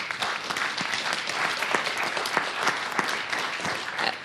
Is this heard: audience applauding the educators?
yes